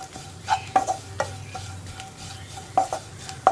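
Soya chunks with spice powders, including Kashmiri chili powder, roast in a pan under a soft steady sizzle, cut by sharp metallic spoon scrapes and taps at irregular moments, close with no voices.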